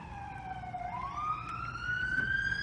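A wailing emergency vehicle siren from passing fire trucks and ambulances sweeps upward in pitch. It is fairly close and loud over a low traffic rumble.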